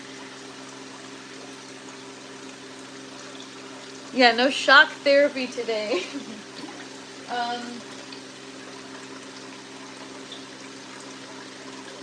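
Water recirculates through a grow tent bucket system, a low steady pump hum and trickle running underneath throughout, with someone talking briefly in the middle.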